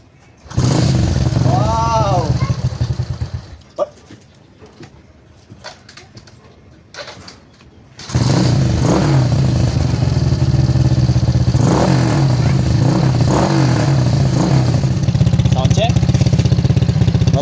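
A Honda Fury 125 motorcycle engine with a big valve conversion starts and idles with a steady rumble, cuts out briefly, then restarts and runs loudly; a voice speaks over it.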